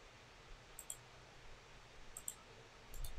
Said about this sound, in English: I'm just hitting the right click button to end those.